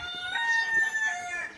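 A flock of hens being herded by a Berger Léonard sheepdog, with a rooster's drawn-out crow and scattered clucks, moderately close and clear against a quiet background.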